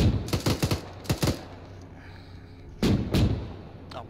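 Weapons fire in an ArmA 3 battle, with rapid bursts of loud, close shots in quick clusters, a brief lull with a distant rumble, then two more heavy reports near the end.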